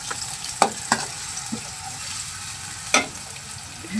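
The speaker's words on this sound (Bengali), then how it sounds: "হ্যাঁ ভাজা হচ্ছে" Onions and chillies sizzle in a wok at a street-side noodle stall under a steady hiss. A metal spatula scrapes and clanks against the pan several times in irregular strokes.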